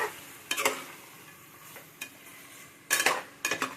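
A spoon clinks and scrapes against a bowl as chicken is mixed with salt, chili powder, ginger paste and chicken masala, giving several separate bursts of close metallic stirring with quiet gaps between.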